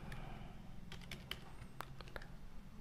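Keystrokes on a computer keyboard tap out a short word in a quiet room, a handful of distinct clicks spaced irregularly over a low steady hum.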